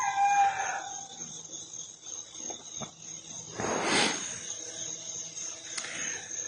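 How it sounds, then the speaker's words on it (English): A rooster crows once at moderate distance on a quiet morning, with insects and faint background sounds around it. "the rooster down about 2, 3 to where I was down is loud this morning"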